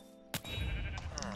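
A sheep bleating in the video game Minecraft, one short clear bleat that breaks in over steady game music and ambient noise.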